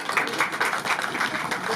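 Members of an association's general assembly applauding the executive committee's report, a dense, even wash of many hands clapping at moderate distance, with no talk over it.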